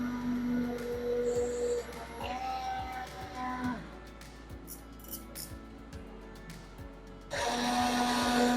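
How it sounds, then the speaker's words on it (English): A kitchen blender blitzes cooked vegetables into a soup purée, whirring loudly in a burst, easing off into quieter clatter, then roaring back at full speed near the end. "Now we will take our blitzer and blend to a puree."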